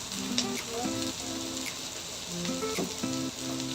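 Bell pepper and aromatics are stirred and sautéed in a hot pan for pork binagoongan. A close, steady sizzle and crackle runs throughout, with faint tonal sounds in the background.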